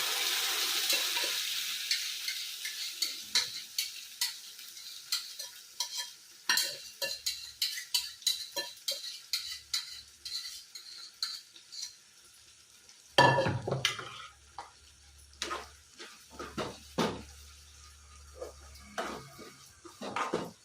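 Dal for palak dal is stirred in a frying pan with a soft sizzle, scraped by a spoon in uneven strokes with occasional clinks against the metal, and a louder burst of frying partway through.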